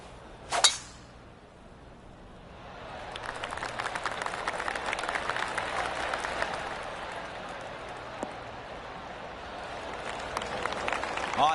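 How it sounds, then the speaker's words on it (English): Spectators scattered around a golf course in a PGA Tour golf video game give polite golf claps: a sharp click, then a soft, distant patter of clapping that swells after a few seconds and holds as a steady ripple. "I can hear the golf claps around the course"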